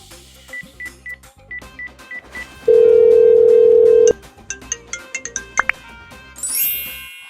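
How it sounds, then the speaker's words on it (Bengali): A telephone gives a run of short electronic beeps, then a long steady tone of about a second and a half, followed by more quick beeps and chimes, all clear and close with no talk. "ফোন করুন ফোন করুন।"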